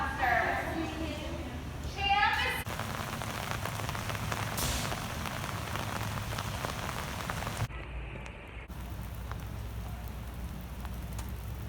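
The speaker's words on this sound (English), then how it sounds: "It's been raining really hard all day." Heavy rain falls hard and steadily, a dense, continuous hiss close around, with a few voices, including a child's, speaking briefly at the start and a short dip partway through.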